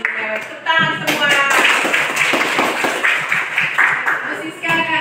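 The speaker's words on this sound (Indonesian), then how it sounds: "Tepuk tangan semua." A group claps hands in bursts between voices that speak or chant; the claps are close, sharp and fairly loud.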